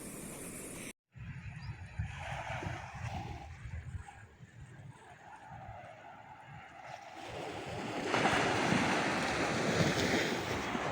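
Small, gentle waves lap at the shore of the Lombok Strait on calm water, a soft continuous wash that grows slightly louder toward the end, with wind noise on the microphone.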